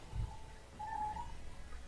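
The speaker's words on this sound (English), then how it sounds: "It's my cat." A pet cat gives a single drawn-out meow, faint and somewhat distant, over a low background hum in a quiet room.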